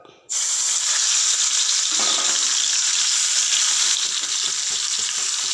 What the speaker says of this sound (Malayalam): ചീനിച്ചട്ടിയിൽ കുറച്ച് എണ്ണ ഒഴിച്ച് ചിക്കൻ പുരട്ടിയത് ഇതിലേക്ക് ഇട്ട് കൊടുക്കാം